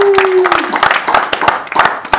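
A crowd claps in uneven, scattered bursts at a neighbourhood gathering in Lemba Sud, with a brief voice at the start.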